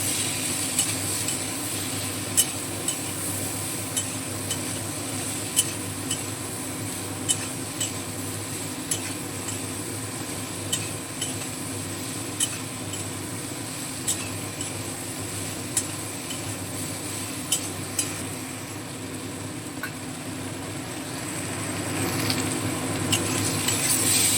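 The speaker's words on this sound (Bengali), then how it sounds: "নুন এবং হলুদটা পেঁপের সঙ্গে খুব ভালোভাবে মিশিয়ে নেব" Papaya pieces are stirred with salt and turmeric in an oiled pan, giving a steady sizzle with regular light scraping taps of a spoon, close and continuous without talk.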